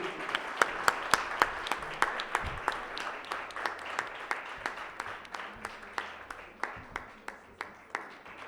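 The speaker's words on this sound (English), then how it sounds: "Can we accompany this with a great warm round of applause and a delicious one at that, please?" Festival audience at the Jaipur Literature Festival applauding guests, steady crowd clapping with distinct sharp individual claps standing out in a regular rhythm, heard from a moderate distance.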